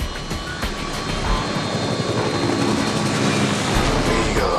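A helicopter in flight, its engine and rotor making a steady, loud, close drone that holds evenly throughout with no voices.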